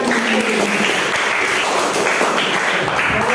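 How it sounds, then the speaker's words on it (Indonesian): A classroom of students breaks into applause, a continuous wash of many hands clapping at once, loud and even throughout with no speech over it. "Beri tepuk tangan."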